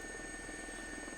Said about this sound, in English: It's a 4-seater Gazelle helicopter.